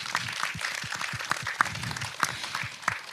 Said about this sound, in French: Un grand tonnerre d'applaudissements.